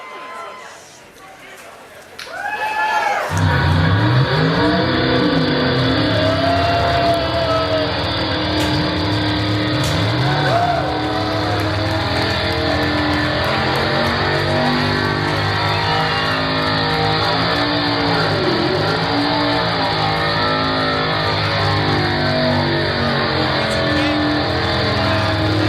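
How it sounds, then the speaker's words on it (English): A brand-new number 5 Time Warner Cable Chevrolet race car starts up and idles loudly at close range, a rough, steady engine drone with rising and falling revs, while a voice talks over it. "Want to introduce to you Casey Kane's brand new number 5 Time Warner Cable Chevrolet"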